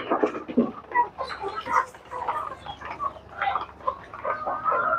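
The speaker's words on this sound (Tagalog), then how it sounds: "Ito po yung ating laga kasama yung manok kumakain" A group of chickens pecking at food on a small farm, soft clucks and short calls scattered close by at varying loudness, with a person talking over them.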